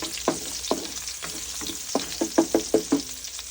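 Arroz caldo stirred in a frying pan with garlic frying in hot oil, a steady sizzle under repeated scraping strokes of a utensil, close and alone, the strokes quickening toward the end.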